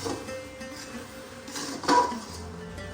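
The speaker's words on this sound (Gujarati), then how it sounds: "આપણે મિલ્ક પાવડર નાખી દીધો છે અને હલાઈ અને મિક્સ કરી દઈશું" Ghee laddu mixture being stirred by hand in a metal pan after milk powder is added, with scraping, clinking utensil sounds and one louder clank near the end.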